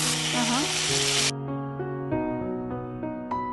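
Brinjals with green chillies fry in a hot pan, opening with a loud broad sizzle that cuts off abruptly and leaves a quieter, steady frying sound scattered with light knocks, heard close and alone.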